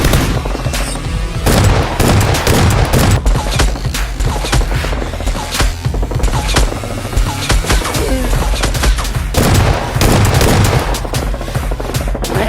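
Nerf guns firing in a staged fight between costumed players, a dense, continuous barrage of sharp pops and bursts that overlap loudly for the whole stretch, with no clear pauses.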